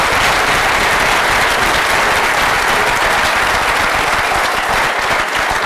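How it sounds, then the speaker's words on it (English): An audience at a gas safety management conference gives a dense, sustained round of applause, loud and continuous from start to finish with no speech over it. "So can I just have a round of applause for Trevor again?"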